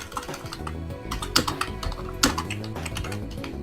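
Fingers type on a computer keyboard, a close, busy patter of key clicks with a couple of louder, sharper strikes, steady and without pauses.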